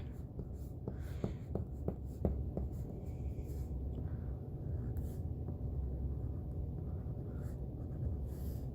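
Black crayon pressed hard against paper while outlining a drawing of a camel, a steady close scratchy rubbing with a few sharp strokes early on, and no voices.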